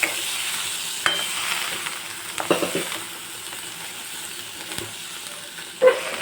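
A spoon stirs and scrapes through a mixture of chickpeas in a hot pan, with a steady frying sizzle and a few sharp scraping knocks, close and continuous, no one talking.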